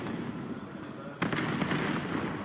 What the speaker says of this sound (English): Lovely nade. Not an easy one to throw.